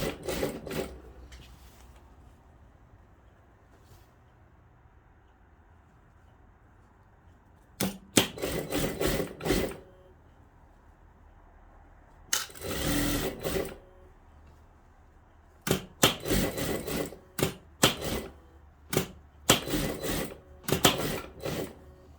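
Sewing machine stitching a long formal dress, running in short rapid mechanical bursts of a few seconds each with quiet pauses between them.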